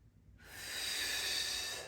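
A single long inhale through the nose during a seated office stretching exercise, starting abruptly and holding as a steady, airy hiss close to the microphone.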